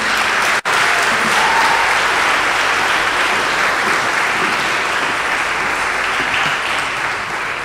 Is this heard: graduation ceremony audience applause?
yes